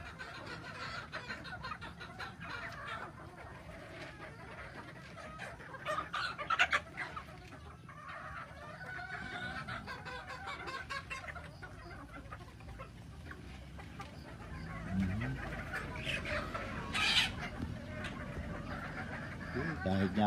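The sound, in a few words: chickens clucking at a breeder chicken farm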